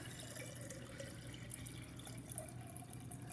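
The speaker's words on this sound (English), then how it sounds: "I'm going to put some nice fresh Aquasana water into a jar" Fresh Aquasana filtered water poured into a jar, a steady continuous splashing trickle heard close up, evenly loud throughout with no talk.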